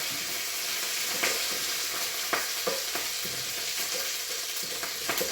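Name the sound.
curry leaves with water sizzling in hot oil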